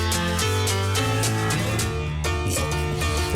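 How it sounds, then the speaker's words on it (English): A tack piano plug-in sampled at Abbey Road from a famous recording piano, its tacked hammers giving a bright, jangly ring. Close, loud chords strike in a steady rhythm, alone with no voices. "So that's the tack piano that they played."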